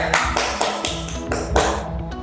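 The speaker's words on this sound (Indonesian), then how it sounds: "Beri aplaus untuk Adi ya" A classroom of students applauds a classmate with loud, close, rhythmic clapping, about six evenly spaced beats that fade at the end.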